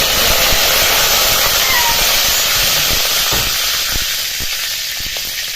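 Curry leaves hit a hot mustard-seed and cumin tempering, giving a loud, steady broadband sizzle and hiss that settles slightly toward the end, with faint crackles scattered through it.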